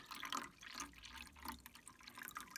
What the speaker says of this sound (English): So I refill the cup